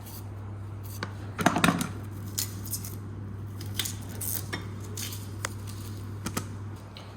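A knife cuts open an onion on a board in a kitchen: a short cluster of crisp slicing and crunching near the start, then scattered light taps and clicks, all close up over a low steady hum.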